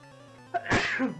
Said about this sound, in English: I had a sneeze building up there.